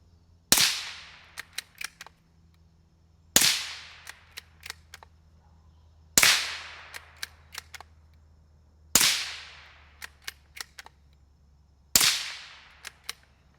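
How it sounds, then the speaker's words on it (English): Five suppressed shots from a 17 HMR rifle fitted with a Liberty Mystic X suppressor, fired a few seconds apart outdoors; each is a sharp, fairly quiet crack with a quick decay, trailed by faint clicks. "17 HMR does suppress very well."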